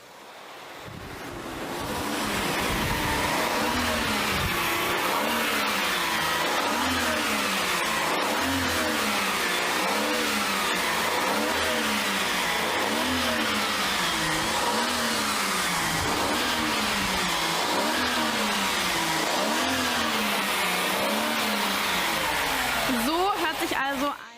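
Mercedes-Benz E500 with a V8 engine, built together with Porsche, accelerating hard; a loud, sustained engine roar rises in pitch through repeated gear changes for about twenty seconds, heard from inside with heavy wind noise.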